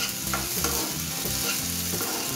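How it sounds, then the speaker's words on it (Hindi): Cut potatoes are stirred into golden-brown fried onions in a pan for veg biryani, giving a continuous close sizzle broken by rhythmic scraping strokes of the spoon, with no talking. "अब इसमें डालेंगे हम लोग आलू कटे हुए, इसको अब अच्छे से चला लेंगे"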